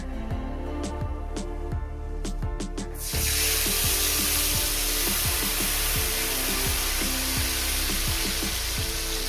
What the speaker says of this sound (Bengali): এটাকে আমি ভালো করে সুন্দর করে কষিয়ে নেবো